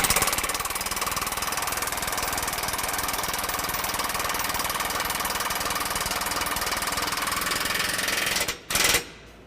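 A power impact tool snugs a trailer hitch bolt on a 2012 Ram 1500. It makes a loud, continuous rattling hammer for about eight seconds, then stops abruptly, with a short final burst.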